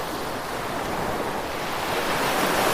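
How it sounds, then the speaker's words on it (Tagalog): Strong wind blowing at Estanza Beach in Lingayen, Pangasinan, a loud continuous roar of gusts and surf buffeting the microphone, steady and rising slightly, with no voices. "Kaya hangin eh."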